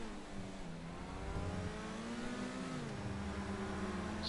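Overflod Tyrant supercar engine in GTA Online, a steady, somewhat dull droning hum whose pitch dips and then climbs slightly as the car accelerates, heard alone with no talking.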